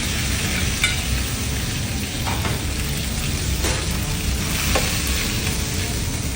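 Shrimp and fish heads fry in oil with garlic in a pan, a loud, dense, continuous sizzle with a few soft stirring knocks and no talk.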